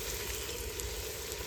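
Shrimp frying in a pan with onion, a dense, steady sizzle close by with no pauses and no talking.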